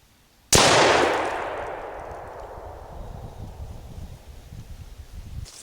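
A single sharp, loud rifle shot, a 5.6x52R Sellier & Bellot 70 grain FMJ round fired at a concrete block from 25 yards, rings out and then decays into a long, fading outdoor echo.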